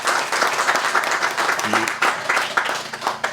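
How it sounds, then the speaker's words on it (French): A crowd applauds at the inauguration of a bridge and trail, with thick rolling clapping throughout while someone speaks over it. "Je pense que vous méritez une très bonne main d'applaudissement"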